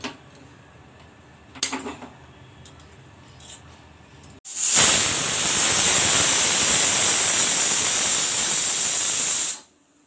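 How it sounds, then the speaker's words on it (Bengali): A pressure cooker boiling dal with salt vents steam in a sudden loud, steady hiss that lasts about five seconds and then stops abruptly, after a few faint clinks and quiet kitchen noise. "সিটি পড়ে গেছে আরও দুটো সিটি পড়বে"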